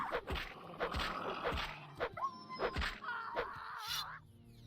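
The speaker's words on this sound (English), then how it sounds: "There's a wolf. The puppy's mad at me." A wolf in the game The Elder Scrolls III: Morrowind growls and snarls in a run of short, sharp bursts mixed with thumping hits, fairly close and moderately loud, with a brief whine near the end.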